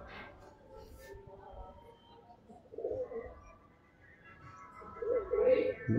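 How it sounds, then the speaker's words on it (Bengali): Pigeons of a flying breed coo in low, throaty bursts, with louder rounds near the middle and end, over a soft background murmur. "পায়রাটাকে ছেড়ে দেখি দাও, এই হচ্ছে পায়রা"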